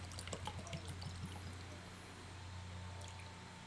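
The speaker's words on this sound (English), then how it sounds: "There's the pour." Oregon Spirit straight bourbon trickles into a glass in a short, soft pour, faint and close over a steady background hum, with no voices.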